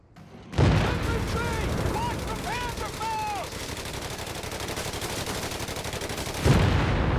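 Machine gun fire in Company of Heroes 3, a long unbroken rattle of rapid shots fills the scene at steady loudness, with booming impacts at start and end and whistling shells arcing overhead midway.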